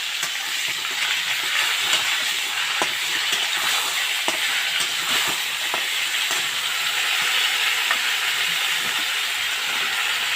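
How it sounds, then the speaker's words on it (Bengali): Washed cauliflower pieces fry in hot oil left over from frying fish, giving a steady, close sizzling hiss with scattered pops and crackles and no voices. "একটু ভেজে নেব কপিগুলো।"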